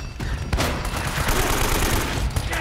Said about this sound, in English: Goddamn blind fire